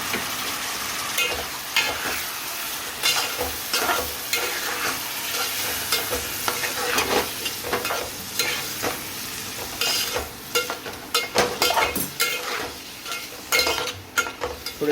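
Moong dal and onions fry in a pan with a steady, loud sizzle, broken by frequent scraping and clatter as they are stirred.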